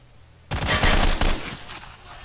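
A small-caliber Stechkin pistol fires a rapid, loud burst in the STALKER game, its shots running together close up before they trail off into a fading echo.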